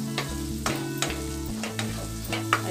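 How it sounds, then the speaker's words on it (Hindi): Turmeric powder cooks in a pan on a low flame, a soft steady sizzle carrying under periodic scrapes of a spoon stirring, close and without voices. "इसे अच्छे से पका लेंगे ताकि हल्दी अच्छे से पक जाए।"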